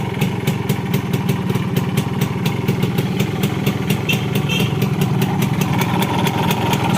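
A 41-year-old Suzuki two-stroke motorcycle engine runs steadily at idle, loud and close, with a rapid even ticking beat and no talk.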